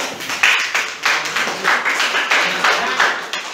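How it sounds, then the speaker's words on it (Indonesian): A small class applauding after a group presentation, a run of quick, uneven handclaps at close range with slight rises and falls, fairly loud and with no talking. "Dikasih aplaus ya"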